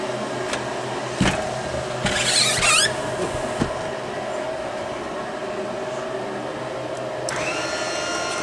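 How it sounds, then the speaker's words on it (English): A car interior blower fan runs as a steady whir, with a few clicks and short bursts of hiss, and a louder whoosh toward the end. "I'm just going to turn the blower on"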